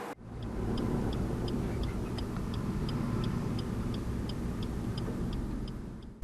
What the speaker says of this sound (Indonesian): Truk overdimension sama overloading alias odol masih terpantau leluasa melintas di jalan kota Palembang